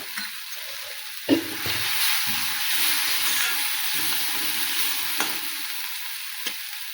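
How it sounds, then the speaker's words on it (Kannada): Vegetable palya with turmeric being stirred and fried in a pan, giving a hissing sizzle with scraping and knocking spatula strokes, including a louder clank early on, close and without speech. "ಚೆನ್ನಾಗಿ ಮಿಕ್ಸ್ ಮಾಡ್ತೀನಿ ರೀ"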